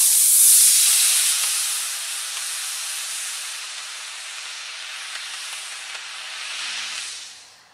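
An R/C rocket glider's motor ignites and launches with a loud, continuous roaring hiss that starts abruptly, holds steady for several seconds, then tapers off near the end, with no talk over it.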